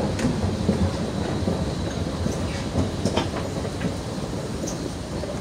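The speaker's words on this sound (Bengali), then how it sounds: "এই হলো মেট্রো রেল।" A Dubai Metro train runs near the airport Terminal 3 station, producing a continuous loud rumble with rhythmic clickety-clack of wheels over rail joints and occasional sharp clanks. No one speaks.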